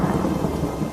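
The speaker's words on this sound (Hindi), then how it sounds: "अरे देखो, बारिश शुरू हो गई।" Rain pours steadily alongside rolling thunder in an animated Hindi moral story, a dense, loud, continuous roar filling the whole second with no voices.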